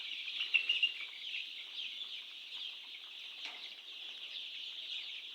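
A dense flock of chickens at a poultry farm makes a constant high chorus of clucks and chirps, fairly quiet and somewhat distant, with a few louder calls early on and no talk.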